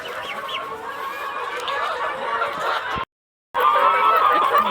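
Chickens cluck steadily while pecking at feed that includes drumstick (moringa) leaves on a poultry farm, a continuous close flock chatter that drops to silence for a moment before resuming.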